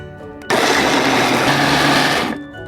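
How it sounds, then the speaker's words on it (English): A kitchen blender grinds ginger, garlic and green chilies into a coarse paste for vada pav, a loud steady whir that kicks in abruptly and cuts off after about two seconds. "So if you are using the blender, just make sure that you make it into a coarse paste."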